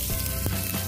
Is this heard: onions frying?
yes